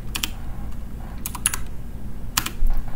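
Typing on a computer keyboard while entering a terminal command, a few quick clusters of crisp key clicks with gaps between them, close and clear with no talk.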